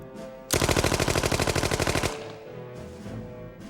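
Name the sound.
Tommy gun firing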